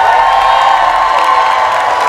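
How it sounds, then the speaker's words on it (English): A studio audience on a blind-date show cheering and applauding loudly for a contestant, a dense sustained roar of shouts and whoops with clapping mixed in. "You will applaud for who you want to stay"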